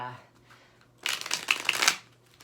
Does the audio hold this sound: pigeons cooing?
no